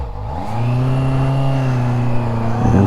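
A Honda CB650F motorcycle engine hums steadily and loudly up close during a slow U-turn, holding a low, even drone with a slight rise in pitch, no voices present.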